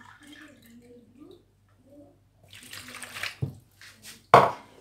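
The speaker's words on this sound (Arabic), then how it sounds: "وغادي نضيف كاس ديال الماء واحد" A glass of water poured into crepe batter made without milk, a short splashing pour that comes late and close, after a stretch of quiet speech.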